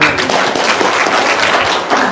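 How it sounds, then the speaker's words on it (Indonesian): Audience applause at an Indonesian religious testimony gathering, a steady dense wash of clapping filling the whole moment at moderate loudness, with a murmur of voices underneath. "Tepuk tangan dong."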